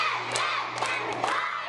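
Cheerleaders cheer together at a kids camp, a loud, bright crowd of young voices shouting and yelling in sustained bursts throughout.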